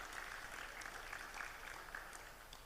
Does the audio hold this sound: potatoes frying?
no